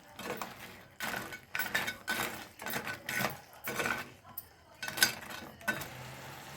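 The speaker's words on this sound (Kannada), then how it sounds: "ಮಿಶ್ರಣದ ಜೊತೆ ಚೆನ್ನಾಗಿ ಒಂಗೂಡುವಂತೆ ಮಿಶ್ರಣ ಮಾಡಿ" A spoon stirring chayote manchurian in a metal pan, giving repeated clinks and scrapes in uneven bursts, close and fairly loud, with occasional pauses between strokes.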